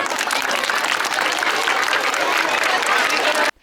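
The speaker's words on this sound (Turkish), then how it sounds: "Alkışlıyoruz. Alkışlıyoruz müdürümü." Dense, sustained applause from a crowd of children and adults at a school letter-writing event, loud and even for over three seconds, then cutting off abruptly.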